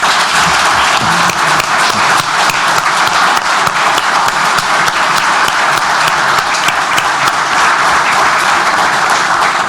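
Sustained applause from an audience at the installation session and first meeting of a Portuguese parish assembly, dense steady clapping filling the whole span at an even, loud level without letup.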